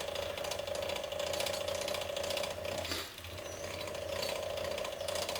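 Small block Chevy 350 engine being cranked by hand to prime its oil pump, giving a steady fast ratcheting click that runs continuously with one brief pause, close and alone.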